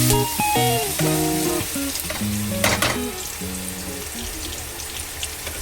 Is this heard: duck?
no